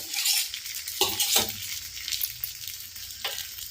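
Kuzhi paniyaram sizzle in the hollows of a pan, a steady broad crackle of frying with a few clinks and scrapes of a utensil against the metal, close by with no talk.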